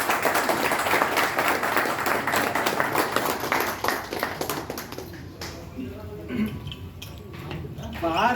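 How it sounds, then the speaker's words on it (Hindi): An audience claps warmly for about five seconds to welcome a newly appointed deputy general secretary of the SBI officers' association, then the clapping fades and speech follows. "तालियों से मैं स्वागत करना चाहूँगा आप सभी।"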